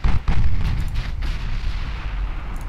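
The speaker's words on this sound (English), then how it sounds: "the battleships themselves do a lot of work on the screens with all those 8-inch guns." Battleship 8-inch naval guns firing in the Ultimate Admiral Dreadnoughts video game, heavy booming salvos with a deep rumbling roll that lingers and fades over a few seconds.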